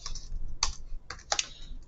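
Quick clicks of a computer keyboard typing a command during an Arch Linux install, close and crisp, in short bursts of a few keystrokes with brief pauses and no talk.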